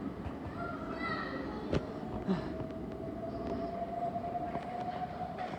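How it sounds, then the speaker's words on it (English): A London Overground train rumbles past at a distance, a steady low roar with a faint high whine running through it; no clear speech. "There goes the train"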